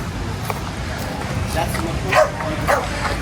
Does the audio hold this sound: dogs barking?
yes